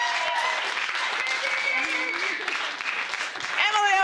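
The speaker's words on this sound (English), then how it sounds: "give her a round of applause" Audience applause for a guest on a broadcast show, a moderate clapping from a small crowd heard continuously, with a voice and some tonal sounds mixed in at the end.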